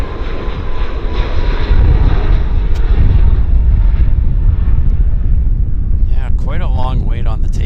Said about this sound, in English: long wait on the takeoff roll for these guys. Well, at least they're now underway down to Los Angeles.